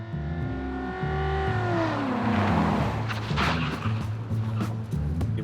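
Car engine during a zigzag evasive maneuver in an ambush simulation test, revving with pitch that rises and falls as the vehicle swerves, steady and fairly loud with scattered tire or road noise.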